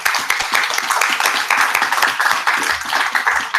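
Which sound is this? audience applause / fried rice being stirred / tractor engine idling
audience applause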